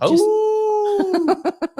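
Sustained howl with a steady tone, sliding into rhythmic yips and woofs toward the end; the howling and woofing may come from a person imitating dogs rather than from real dogs.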